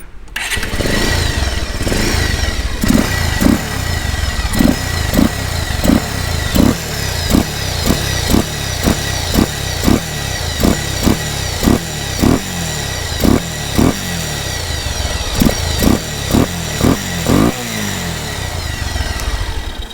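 A Bajaj Pulsar 180 motorcycle fitted with a power air filter idles loudly and close, then is blipped in a long series of quick, regular throttle revs, each one a short rising roar over the running engine.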